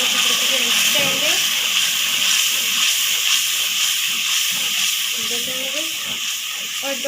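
Masala spices with salt fry in a pan for okra curry, giving a steady, close hiss and sizzle throughout, with faint clatter and a few vocal-like tones mixed in.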